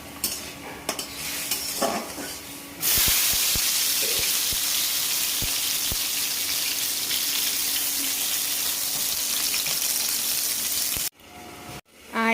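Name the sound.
cashews and raisins frying in a pan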